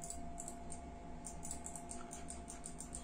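Mouse and keyboard clicks at a computer running MRI viewing software while brain scan images are zoomed, a quick steady patter of light taps continuing over a low electrical hum, close and fairly faint.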